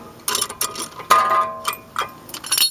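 A C-clamp pushes back the front brake caliper piston on a Honda Accord, giving close, loud bursts of metallic clicking and creaking in several separate spurts with short pauses between them.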